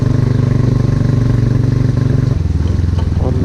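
Motorcycle engine idling and pulsing steadily on a wet, slippery mountain road, loud and close with a rhythmic low throb that drops in pitch near the end.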